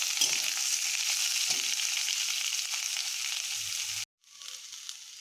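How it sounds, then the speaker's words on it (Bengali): Chopped onions sizzle in hot oil after potatoes were fried, a steady bright crackling hiss with a few stirring scrapes, then a brief cut and the sizzle resumes softer. "এবার আমরা পেঁয়াজটা লাল লাল করে ভেজে নেব।"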